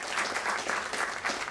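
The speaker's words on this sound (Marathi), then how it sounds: "आपण खूप टाळ्या वाजवू" An audience at a book launch in a hall claps continuously, a dense, even wash of applause with slight swells, moderately close.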